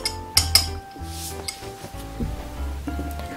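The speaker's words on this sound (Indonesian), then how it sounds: "aduk hingga rata" A utensil stirs custard mixture in a metal pot, making soft scraping swirls punctuated by several sharp clinks and knocks against the rim, close and clear, with no talking.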